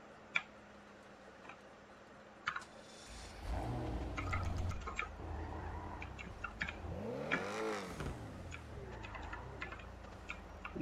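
An add-on sports car in GTA 5 on PC, set up with an XA21 engine sound, revs twice with rising and falling engine sweeps amid scattered keyboard ticks and clicks.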